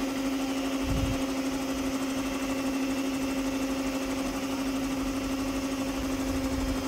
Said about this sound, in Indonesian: Untuk mixernya dengan kecepatan rendah, tapi tidak perlu terlalu lama, jadi cukup tercampur.